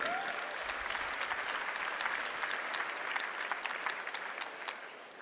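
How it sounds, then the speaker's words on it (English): A large audience applauds steadily for venture capital firms at the Slush 2022 startup event, a dense even wash of clapping that fades slightly at the end. "Let's give a round of applause for them."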